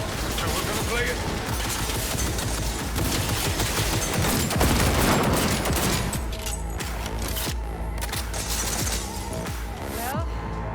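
A minigun turret in Cyberpunk 2077 fires relentlessly in a dense, roaring stream of shots mixed with explosions and battle noise, loud throughout and fading slightly toward the end amid chaotic combat sounds.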